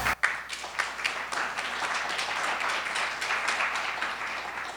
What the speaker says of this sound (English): Please encourage all students with applause.